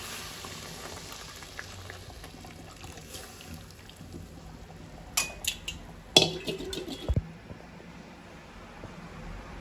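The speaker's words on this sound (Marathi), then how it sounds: "आता दूध टाकून घेते, सगळं दूध टाकते मी." Milk poured into a hot pan on a home stove, a soft ongoing sizzle joined by a few sharp metallic clinks and clatters of pot and utensil near the end, close and fairly quiet.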